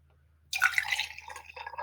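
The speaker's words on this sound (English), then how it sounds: "I've got my ice ready and everything, and I got me some water right here." Water splashes into a glass after a moment of quiet, bright and close, with a trickling, clinking quality as it settles over ice.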